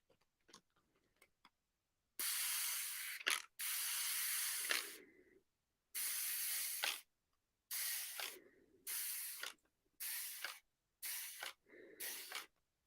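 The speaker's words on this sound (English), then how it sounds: "And I'm going to spray my canvas." A hand-held water mister sprays onto a canvas in a series of sharp hissing bursts, the first few long and the later ones shorter and quicker, separated by brief silences, close to the microphone with no talking.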